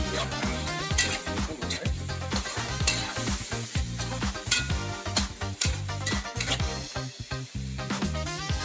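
Pork sizzling and frying in a hot pan for mixed vegetables with pork, with steady loud crackling broken by repeated scraping and clanking of a utensil stirring against the pan, and no talking.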